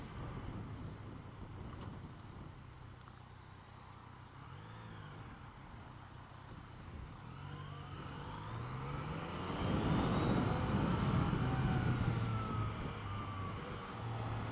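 A Yamaha MT09 motorcycle rides along a road, its engine a steady, fairly faint drone that swells louder and rougher under acceleration past the midpoint, mixed with wind rush.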